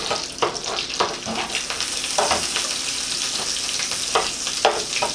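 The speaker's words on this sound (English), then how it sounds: "Now I'm going to add 2 bulbs of garlic and a wedge of sweet red onion" Garlic bulbs and a wedge of sweet red onion sizzling in buttery oil in a blackened pan, a steady hiss with occasional scraping stirs, no voices over it.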